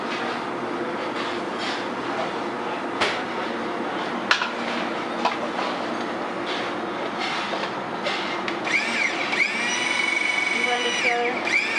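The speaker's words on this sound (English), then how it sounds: "And blend it together." A blender whirs through graham crackers, sugar and butter for a crust, a dense continuous grinding roar that rises into a higher-pitched motor whine near the end.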